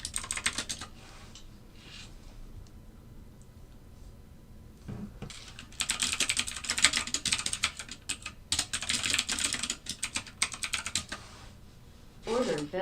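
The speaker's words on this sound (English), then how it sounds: "Trying to type and it's not working." Rapid typing on a computer keyboard at a trading desk, clattering key presses in dense bursts with pauses between, fairly close, with occasional speech in the background.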